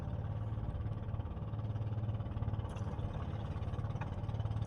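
A diesel engine on a fishing boat runs at a steady low idle, its faint, even hum continuing without change and with no talk over it.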